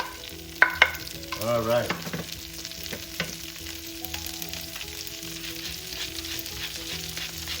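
Onions going into a hot pan with garlic for vinegar-braised banana blossoms, a few sharp clatters and a scrape, then a steady close sizzle that carries on to the end; someone speaks briefly near the start.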